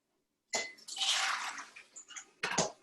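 Dried beans being rinsed and drained under running water in a kitchen sink, a short splashing burst followed by a longer rush of water and a final brief splash, with no talking.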